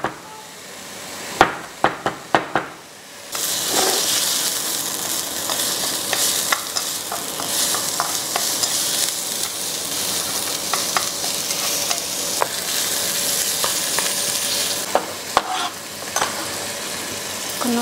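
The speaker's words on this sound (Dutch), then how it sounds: "Spek gelijk in de wok. Laat die maar rustig bakken." Bacon sizzles steadily in a hot wok, loud and close, with a few sharp knocks and clatters at the start before the continuous frying hiss takes over.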